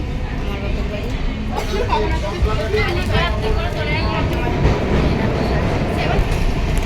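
A moving passenger train on the Loknath to Rishra route rumbles from inside the carriage with a steady low roar and faint rhythmic rattling, and voices talk over it throughout.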